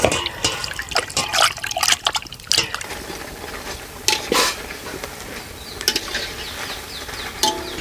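Mysore bajji frying in hot oil, with sizzling and bubbling that flares and crackles in uneven bursts, close and moderately loud.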